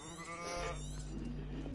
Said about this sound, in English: that sheep's a bit interested in me